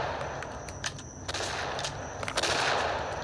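Rapid gunfire from The Wild West, a Roblox game, rings out in quick bursts of sharp shots, tightly spaced and loud, with a denser volley near the end.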